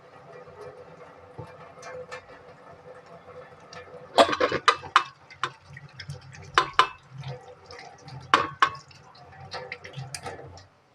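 Running tap water with splashing and dripping while hands are washed between cooking steps in a home kitchen, with a few sharper splashes and clatters standing out over a steady low trickle.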